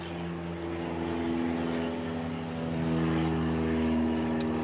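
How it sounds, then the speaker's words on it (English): A propeller airplane drones steadily overhead in Sweden, a sustained low rumble with harmonic tones that swells slightly and holds loud throughout, with no talk over it. "Sorry for the plane, you guys."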